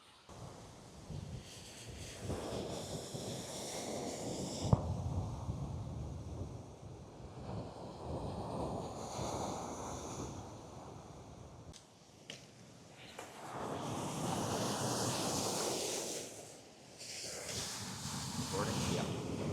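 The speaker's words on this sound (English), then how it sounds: "the waves are very intense" Intense ocean waves break on the shore in a heavy, washing roar that swells and fades, partly buried under gusty wind buffeting the microphone, while people talk over it.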